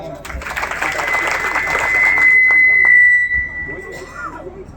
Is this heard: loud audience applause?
yes